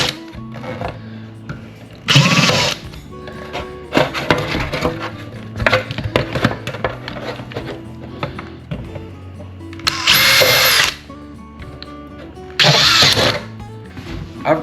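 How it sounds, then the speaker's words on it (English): A power drill bores holes into a plastic vertical letter tray in three loud, close whirring bursts, each a second or two long, separated by quieter handling and clatter. "So I think I'm going to drill a couple holes in it"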